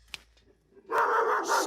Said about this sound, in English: If you study his bark, it's a very frantic bark.